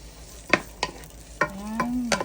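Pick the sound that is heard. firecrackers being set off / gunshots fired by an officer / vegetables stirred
vegetables stirred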